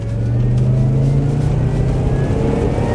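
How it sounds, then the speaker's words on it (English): A high-mileage supercharged Range Rover engine pulls hard under full-throttle acceleration, a loud rising drone close by with a thin high supercharger whine riding above it. "I'm going to sort of flat the throttle, and I want to hear the whine"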